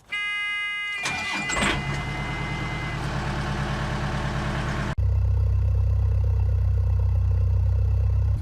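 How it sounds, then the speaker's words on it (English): Narrowboat diesel engine running on a cold morning while warming up, a steady low rumble close by that grows louder and heavier after a few seconds, with no talking. "The engine's on, warming up."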